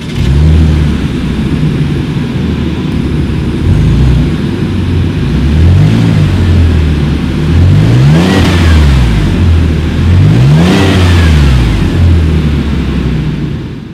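A 2020 Chevrolet Traverse SUV with dual exhaust idles with a deep rumble, then revs sharply twice, the exhaust note rising and falling loud and close.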